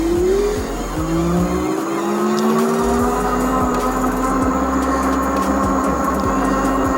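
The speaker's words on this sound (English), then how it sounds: "So right now the throttle is pinned down and it's taking this hill at about 11 miles per hour." An electric moped-style ebike, a Windone K2 urban commuter, climbs a hill from a dead stop at full throttle, giving a loud, continuous motor whine that rises and holds steady, with tyre and road rumble beneath.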